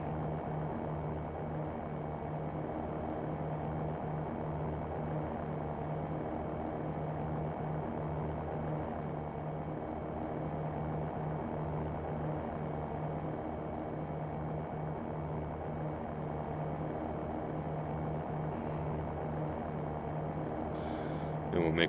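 Propeller aircraft engine in the X-Plane 11 flight simulator droning at a steady, even pitch, moderately quiet and unchanging throughout.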